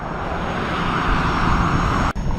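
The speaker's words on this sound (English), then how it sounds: "that tractor trailer just passed me and sucked my speed up" A tractor trailer roars past a rider on a KingSong 18L electric unicycle, a loud, steady rush of engine and wind noise that fills the whole stretch, with one brief dip near the end.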